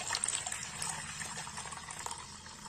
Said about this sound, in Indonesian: kita masukkan airnya